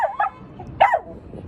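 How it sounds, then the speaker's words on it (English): A dog barks twice from close by, two sharp separate barks about half a second apart, with a faint car alarm nearby. "Now he's just barking at a car alarm."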